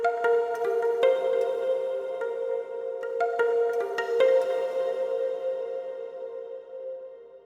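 Sustained tonal music treated with an Echo Boy delay and a Random Hall reverb, repeating notes echoing in sixteenth-note steps over a steady washed-out tail, loud and continuous with no voices.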